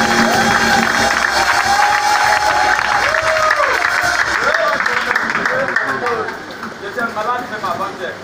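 A church congregation on its feet applauding and cheering the Lord, with loud crowd clapping and shouting that is mixed with singing and calling voices and fades toward the end.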